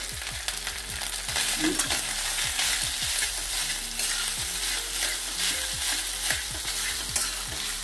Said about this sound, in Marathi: आता याच्यामध्ये आपण भात टाकून घेऊया